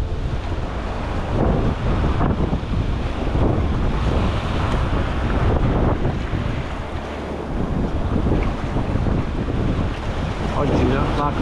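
Strong wind buffets the microphone on a rocky sea coast, a dense continuous roar mixed with surf and breaking waves from start to end, loud and steady with slight gusting swells.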